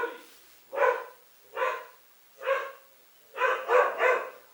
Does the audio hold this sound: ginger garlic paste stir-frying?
no